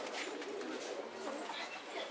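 Pigeons coo softly among a busy hiss of background noise, low murmuring calls blending together without a clear rhythm.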